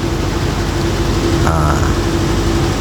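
A generator engine with a jumpered AVR and low panel voltage runs at a steady idle, a loud continuous low hum with a steady tone and a brief clatter midway, no talk.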